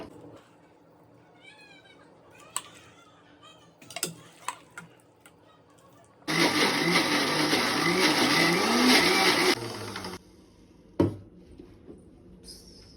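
Mixer grinder grinding fresh mango, a loud steady whirring run of about four seconds that starts and stops abruptly, with quieter clinks and small knocks before and after.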